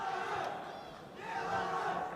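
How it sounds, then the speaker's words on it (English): A St. Petersburg arena crowd at the 2013 World Combat Games roars and applauds before a final bout, a dense, sustained cheer swelling near the end, with a commentator's voice faintly mixed in. "The applause of the St. Petersburg crowd."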